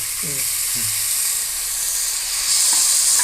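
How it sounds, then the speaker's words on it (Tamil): Ginger garlic paste sizzles steadily in a hot pan of tomatoes for a mushroom biryani, a continuous bright frying hiss with a couple of short low scraping stirs near the start. "அடுத்தது அரைச்சி வச்சுருக்கிற இஞ்சி பூண்டு பேஸ்ட்டு இதில் ஆட் பண்ணிடலாம்"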